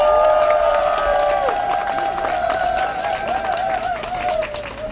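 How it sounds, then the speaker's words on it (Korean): A crowd at an outdoor election campaign rally in Mokpo's Dalmaji Park applauds and cheers loudly and continuously, with a sustained tonal hum running through the clapping. "여러분 다시 한번 큰 박수 보내주시기 바랍니다."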